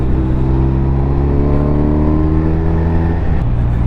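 A BMW R 1250 RT LE touring motorcycle accelerates hard in third gear toward 60 mph on a bumpy Welsh back road, its engine a loud, sustained, close drone with a smooth rising pitch and a slight shift near the end.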